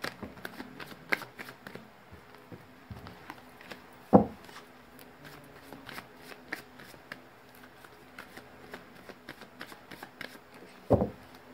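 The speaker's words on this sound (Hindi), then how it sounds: "मैंने कर लिया है कार्ड्स की सफलिंग" Tarot cards are shuffled by hand with soft, continuous riffling and sliding, broken by a couple of louder taps as the deck is squared up.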